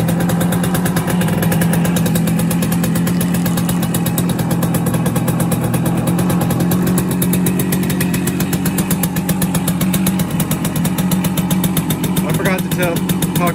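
A 1971 Kawasaki G3SS 90cc two-stroke motorcycle engine runs steadily with the choke fully on, a close, buzzy, even idle throughout with someone talking over it.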